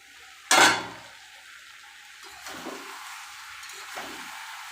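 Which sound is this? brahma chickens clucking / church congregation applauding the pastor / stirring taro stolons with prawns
stirring taro stolons with prawns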